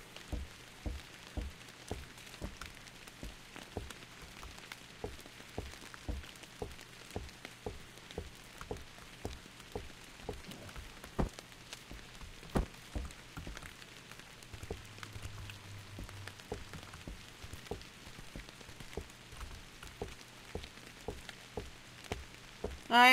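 Rain falling in the video game Bear Simulator, a soft, steady patter of drops with irregular ticks throughout, faint and continuous with no speech.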